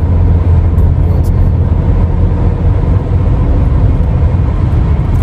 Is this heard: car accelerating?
yes